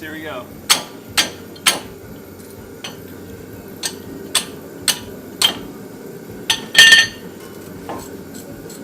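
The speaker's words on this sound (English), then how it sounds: "I have my pipe wrench. I'm just hitting it with this." A pipe wrench striking a rear wheel hub on a 2007 Honda Civic Si, a series of about ten sharp metallic clanks at irregular intervals, close and loud over faint background, with a brief spoken word near the start.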